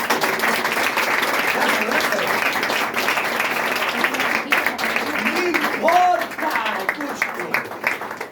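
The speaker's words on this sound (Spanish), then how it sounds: "Denle un aplauso a Dios" Steady applause from a church congregation fills the whole stretch, with a pastor speaking over it.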